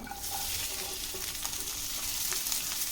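Ladies finger (okra) roasts in oil over a low flame, producing a soft, steady sizzle with light crackling and occasional stirring scrapes, moderately quiet and close, with no speech.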